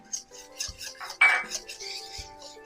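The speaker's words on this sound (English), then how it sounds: "I'm going to whisk these together. Make sure you get the yolks broken up." Eggs are whisked in a bowl, giving quick, irregular clinks and scrapes of a utensil against the dish, fairly faint and close.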